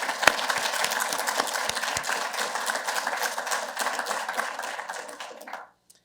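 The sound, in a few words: audience applause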